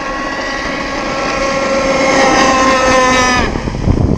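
Engine of an RC cracker box boat on its maiden run on water, running stock settings and lean: a loud, steady high-pitched nitro whine that holds, rises slightly in pitch, then drops off abruptly near the end.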